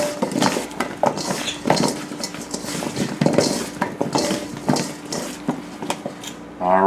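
Potatoes being tossed with salt, garlic and rosemary in a metal bowl or pan, a steady run of clinks, scrapes and rattles up close, with a voice talking over it.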